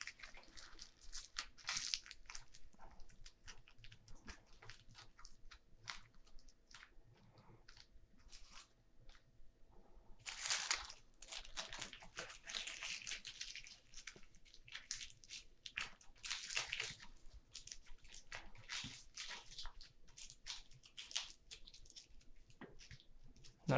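Aluminium foil being squeezed and crunched by hand around a sculpture armature for a maquette, close, dry crinkling in irregular bursts with short pauses, quiet and alone, busiest in the second half.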